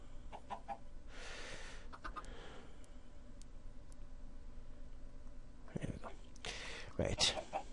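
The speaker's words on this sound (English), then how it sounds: "what was my garden is now my chicken coop" Chickens clucking in a Minecraft coop, a few short bursts of clucks and wing-like flutters spread through the clip, while a person talks over it.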